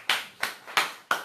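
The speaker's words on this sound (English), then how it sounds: "I congratulate you again, and I give you another clap" Four separate hand claps at a steady, unhurried pace, each sharp and close, with clean silence between them, given as a congratulatory gesture during a live online chat.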